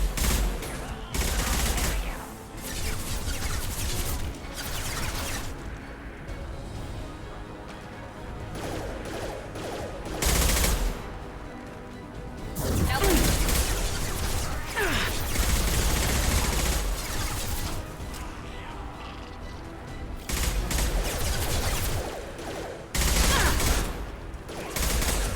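Sustained bursts of gunfire from Mass Effect Legendary Edition, loud rapid volleys recurring across the stretch with brief lulls between them, with someone talking over parts of the action.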